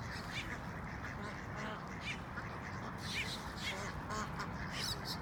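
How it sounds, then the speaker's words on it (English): Ducks quacking in a dense, continuous chorus over steady outdoor noise, calls overlapping throughout with brighter squawks standing out now and then. "Look at all these ducks coming."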